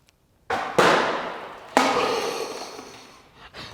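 A homemade chemical rocket pops its cork out with a sharp bang, then a second burst follows about a second later, each trailing off into a long hissing, rushing decay.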